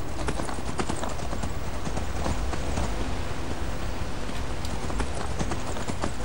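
Steady clip-clop of horse hooves while riding a horse in the Skyrim video game, a continuous rhythmic trot that stays close and fairly loud throughout, with no speech.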